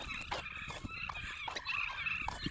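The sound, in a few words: turkeys gobbling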